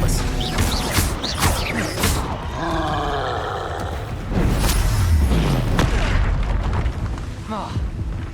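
Spell blasts, Confringo and Depulso, in the Hogwarts Legacy video game: repeated booming bursts and roaring impacts in quick succession, loud and dense, mixed with grunts and combat noise.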